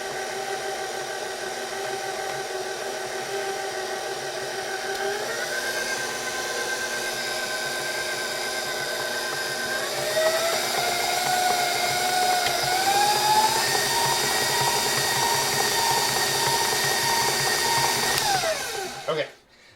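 An electric mixer whirs steadily through carrot cake batter, a close, continuous motor hum whose pitch shifts upward a few times before it switches off abruptly at the end.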